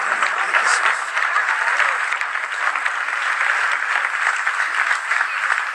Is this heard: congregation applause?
yes